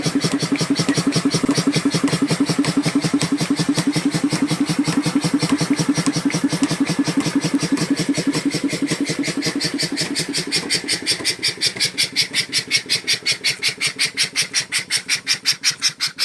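A borewell air compressor's engine runs steadily with a fast, even mechanical chugging as its wheel turns, loud and close throughout, easing slightly in the second half.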